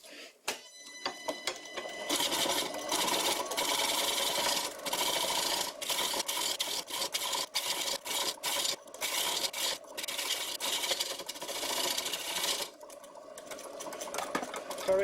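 A homemade bowl gouge cuts wood on a lathe, trimming the side of the piece. Close, harsh scraping and rasping bursts repeat in quick succession with brief gaps between cuts.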